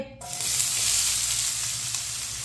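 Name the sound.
finely chopped onions frying in oil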